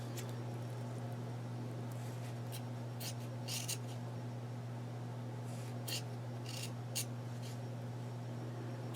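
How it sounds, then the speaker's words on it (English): Scissors cut fringe slits into felt for an Easter basket craft, making a few soft, brief snips spaced apart over a steady low hum in a quiet room, with no talking. "We're going to cut the outside edges almost up to the center."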